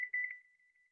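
A kitchen timer being set for baking brownies gives a close, thin electronic beep followed by a few fainter quick tones, then quiet.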